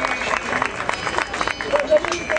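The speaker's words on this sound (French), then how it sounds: "on va les raccompagner, mesdames, messieurs, avec des applaudissements" An audience at a motorcycle-assistance school event gives scattered, uneven applause, with irregular claps mixed into crowd murmur and nearby voices.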